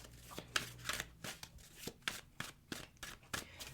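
Tarot cards are shuffled in a quick, regular run of crisp riffling bursts, about ten in a row, close and soft with no talk over them.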